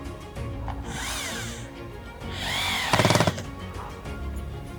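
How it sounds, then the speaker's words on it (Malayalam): A power drill drives screws into aluminium-coated material in a factory, with two whining bursts of the motor rising in pitch and a short rattling buzz as a screw seats. "ഡ്രില്ല് എടുത്തിട്ട് നമ്മൾ എന്നിട്ട് സ്ക്രൂ ചെയ്യുകയാണ്"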